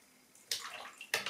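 A watercolour paintbrush is rinsed in a water pot, giving two short splashing swishes with a quiet pause between them, close and soft, no voices.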